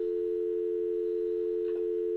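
A telephone tone hums steadily and evenly after the phone is hung up, with a faint brief sound partway through and no talk.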